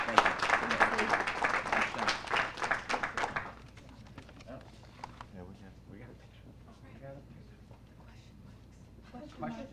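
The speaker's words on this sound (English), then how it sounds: "If you could just give them a round of applause, I'd appreciate it." An audience at a Frederick Running Festival 2023 press conference gives the officers a round of loud applause for about three seconds, which then drops away to quieter room noise and scattered sounds.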